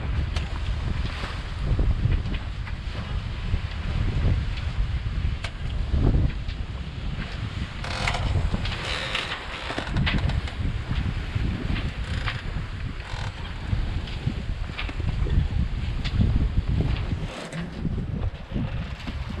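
Steady wind roars and buffets the microphone while water rushes beneath a moving sailboat, continuous and loud with no voices.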